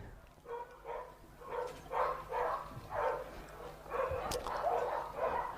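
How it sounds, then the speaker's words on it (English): A large dog at an indoor agility competition barks repeatedly at its handler during a run, a steady series of mid-distance barks and yips over arena ambience. "dog just having a little bark at the handler"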